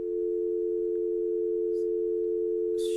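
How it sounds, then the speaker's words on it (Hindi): A telephone dial tone after a caller's line dropped on a radio call-in, a steady, unbroken single-pitch hum holding for several seconds, clear and loud, with a couple of faint clicks over it. "शायद फ़ोन कट गया है"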